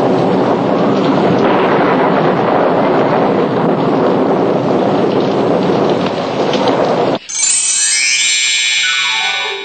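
A heavy thunderstorm pours down as a story sound effect, dense loud rain hiss and rumbling thunder filling the scene continuously before cutting abruptly near the end to a brief tonal musical sweep.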